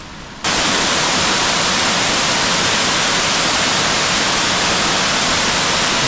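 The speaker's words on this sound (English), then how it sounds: "there's been a lot of rain lately, and these waterfalls are going" Waterfall at Ramapo Reservation in Mahwah, New Jersey, running full after heavy rain, a loud, steady broadband rush that starts abruptly after a quiet moment and continues alone.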